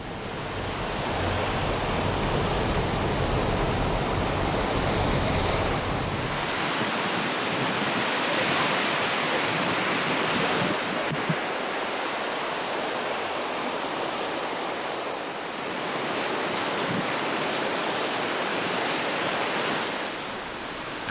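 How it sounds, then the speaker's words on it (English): The upper Sindh River in the Kashmir Valley, swollen by monsoon rain and snowmelt, roars as a raging torrent in a continuous broadband rush that swells and eases slightly, close and unbroken by voices. "following the upper waters of the Sindh River, which at this point is a raging torrent"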